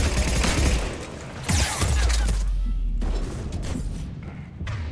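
Drone gunfire in the Mass Effect 3 video game, a loud sustained burst of rapid shots with heavy thumps, pausing briefly before resuming in steady bursts.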